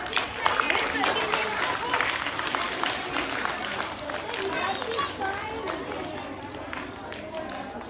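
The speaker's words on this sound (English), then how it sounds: "Again clapping for them." A school audience at a Diwali and sports week prize ceremony claps for winners, scattered uneven applause from many hands, mixed with children's chatter and movement nearby.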